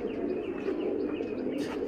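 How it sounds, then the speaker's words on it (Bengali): Racer pigeons, young birds being offered for sale, coo softly and steadily from close by, a low continuous murmur with faint chirps on top and no talking. "কবুতর ঠিক আছে"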